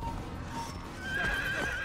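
A horse whinnies in the Assassin's Creed video game, a fairly clear high rising cry over a busy backdrop of in-game ambience and hoof clatter, lasting about a second.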